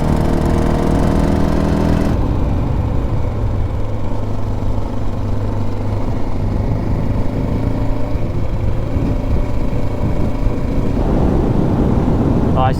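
A motorcycle engine warming up on a Colorado ride, a loud, steady low idle rumble that carries on throughout, with a brief different noise at the start and a faint voice near the end.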